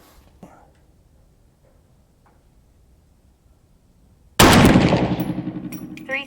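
A single loud gunshot from a 350 Legend rifle cracks out after several seconds of quiet, then rings and decays over the remaining two seconds.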